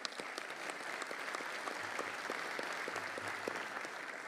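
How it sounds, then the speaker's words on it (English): Sustained applause from a crowd at a sports hall of fame event, a dense steady patter of many hands clapping throughout, moderately loud and even. "So please join me for a round of applause for all these sponsors."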